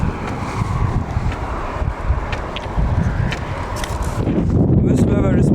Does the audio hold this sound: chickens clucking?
no